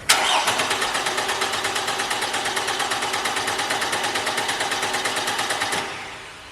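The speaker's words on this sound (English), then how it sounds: "Now we'll get back in the car, we'll go ahead and crank the car." A car engine cranks over steadily without catching while its fuel pump fuse is pulled, a loud, rapid rhythmic churning of the starter that runs for almost six seconds and then stops abruptly, leaving a brief fading tail.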